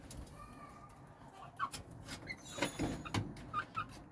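Chickens cluck faintly in scattered short calls, with a rooster-like voice among them, outdoors with light background noise.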